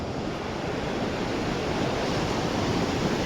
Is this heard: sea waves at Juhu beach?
yes